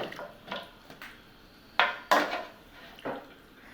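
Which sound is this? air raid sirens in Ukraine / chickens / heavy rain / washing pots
washing pots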